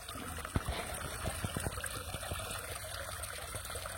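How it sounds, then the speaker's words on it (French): A garden pond waterfall just switched on, water cascading and trickling steadily with scattered splashy drips, moderately close and constant throughout. "Je viens d'enclencher la cascade"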